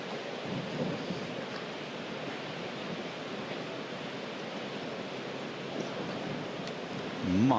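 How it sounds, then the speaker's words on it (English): Strong wind gust on a golf course during a PGA Championship round, a steady broadband roar that rushes on for several seconds and swells slightly near the end. "Monster gust."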